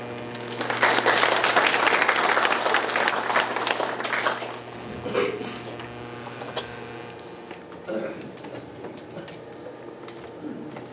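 Applause at a county governor's 2025 New Year press conference, dense clapping that fades after about five seconds, followed by scattered claps and room noise.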